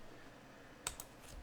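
Two quick computer keyboard key presses for a Control-C shortcut, close and crisp, with sharp clicks a fraction of a second apart in an otherwise quiet room.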